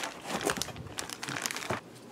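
A plastic bag crinkles as a DIY stress ball kit is unpacked, close and fairly quiet, with a quick series of crackling crumples over about two seconds before it settles.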